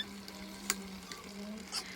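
Washed rice being spread and levelled with soft scraping strokes inside a pilaf pot, faint and close, with a few brief clinks over a steady low hum.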